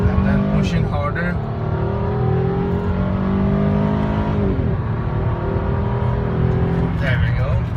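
A Ford Fusion V6 SEL accelerates hard, its engine rising and dropping as it runs through the gears, loud and close throughout, with someone talking over it.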